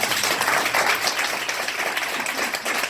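An audience at a marketing business presentation gives a round of applause, loud, close, dense clapping that swells slightly and then stays steady to the end.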